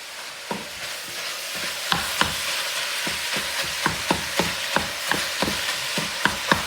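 Ground meat for a bolognese sauce sizzles in a pot as a Pampered Chef meat-chopping gadget breaks it up. A steady frying hiss runs under sharp, regular scraping knocks against the pot, close with no talk.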